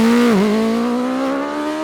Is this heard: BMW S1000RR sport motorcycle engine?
yes